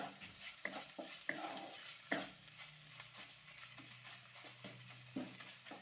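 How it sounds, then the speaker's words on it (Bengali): Ginger, garlic and green chilli frying in a pan with a steady, crackling sizzle, broken by repeated clicks and scrapes of a spatula stirring through it. "আদা রসুন কাঁচা লঙ্কা খুব ভালো করে ভেজে নেব"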